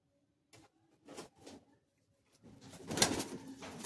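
Pigeons in a loft of flying pigeons, with soft intermittent cooing bursts early on, then a louder stretch of fluttering and rustling movement near the end, fairly close.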